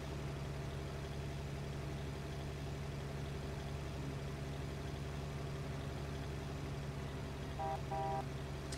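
Steady low drone of a tractor engine pulling a baler in Farming Simulator 17, running continuously at an even pitch with a faint short electronic beeping near the end.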